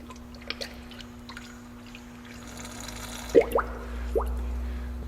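Coolant poured into the radiator of a 1999 Acura 2.3 CL during a radiator replacement, with a few scattered drips and gurgling bubbles as air escapes, over a steady low hum.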